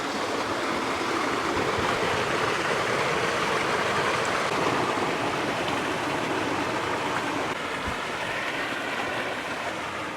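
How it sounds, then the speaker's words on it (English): Steady rushing water of a small river in Melrose, Scotland, running fast after rain, fills the whole clip at a constant loud level with no voices. "Looks like we're going to cross a little river here. Oh, it's running quite fast with all the rain."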